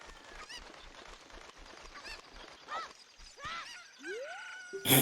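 Cucco chickens cluck and squawk in the Zelda: Ocarina of Time game during a randomizer race, several short bird calls over steady game sounds, ending in a loud burst.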